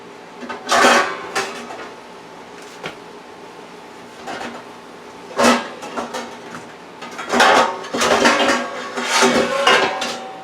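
Metal cooking pans clanking and scraping in a home kitchen while stuffing is made from scratch, a series of sharp, close knocks and clatters spaced irregularly, several grouped near the end, with quiet pauses between.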